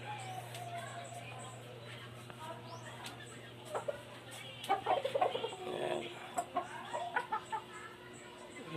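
Backyard chickens clucking in short bursts over a steady mechanical hum, with a soft run of clucks and a few sharper calls toward the end, near and moderately quiet.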